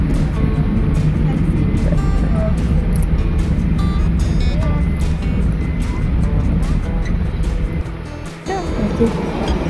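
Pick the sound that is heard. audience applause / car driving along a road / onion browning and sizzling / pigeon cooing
car driving along a road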